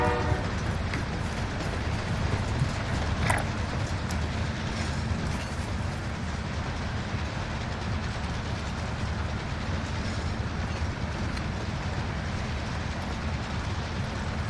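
A train runs steadily in a tactical multiplayer video game, a continuous rumbling clatter of wheels and carriages heard at moderate level throughout, with a faint horn-like tone near the start and no talk.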